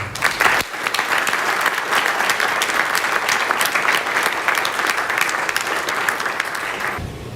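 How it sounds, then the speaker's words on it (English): Families and guests at an Eagle Scout Court of Honor break into a loud round of applause after a brief moment of talk, the clapping swelling quickly and holding steady before cutting off near the end. "Let's give them a round of applause again"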